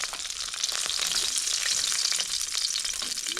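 Chili, garlic, ginger and onion sautéing in oil, giving off a steady, dense hiss of frying with faint stirring ticks, close and continuous, with nothing else heard.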